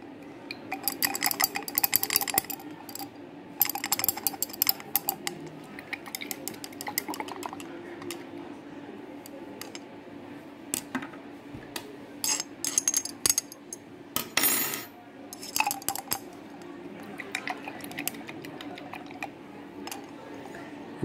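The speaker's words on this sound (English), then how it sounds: "I'll stir that to dissolve it" A small spatula stirs ammonium chloride into water in a lab container, producing bursts of light clinking and scraping taps against the glass, scattered and quiet over a faint steady hum.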